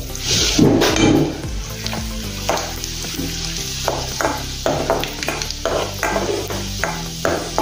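Steady sizzling of finely chopped garlic frying in hot oil, with a spoon stirring and scraping against the pan at intervals, close by.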